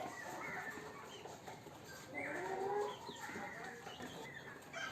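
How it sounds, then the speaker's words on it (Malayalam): Native naked neck chickens on a rooftop poultry setup cluck and call in irregular bursts, with a steady bed of farmyard noise around them. "ഇതെല്ലാം നമ്മുടെ നാടൻ കോഴികളാണ്"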